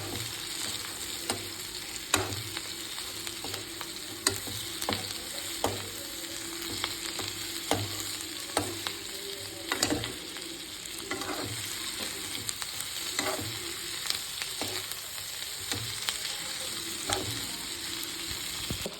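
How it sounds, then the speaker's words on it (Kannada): Fried cauliflower pieces being stirred into rice in a sizzling pan, with steady frying hiss and repeated scraping strokes of a spoon at a regular pace, close and alone without any talk. "ಇದೇನು ಗೋಬಿ ಫ್ರೈ ಮಾಡ್ಕೊಂಡಿರ್ತೀವಲ್ಲ ಅದನ್ನೆಲ್ಲ ಹಾಕ್ಬಿಡ್ಬೇಕು. ನೀಟಾಗಿ ಮಿಕ್ಸ್ ಮಾಡ್ಕೋಬೇಕು."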